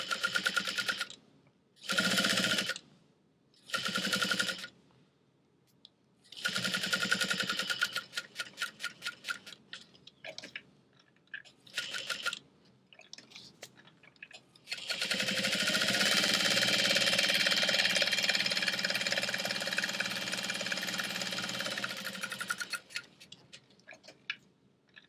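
A sewing machine stitches a clear vinyl bag in short rapid bursts with pauses between them, then runs in one long continuous whirring stretch before slowing and stopping.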